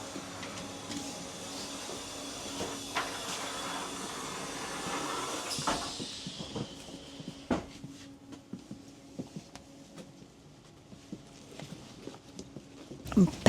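Onboard a train riding through Europe, a steady rolling rumble with hiss and occasional clacks and knocks, moderately loud, while a person talks over it.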